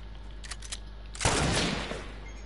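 A single no-scope gunshot in an online shooter game, one sharp loud burst with a short decaying tail, preceded by faint small clicks and no voices.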